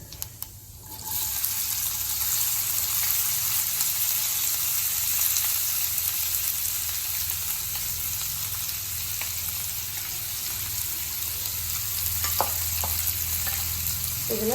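Three large onions hit hot oil with cumin in a pan, giving a loud, steady, close sizzle that holds throughout with only faint clinks near the end.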